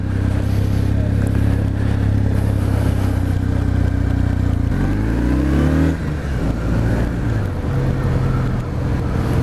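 A 2019 Kawasaki W800 motorcycle engine revving up in first gear, its steady loud drone climbing in pitch, then dropping and settling, close and continuous with no talking.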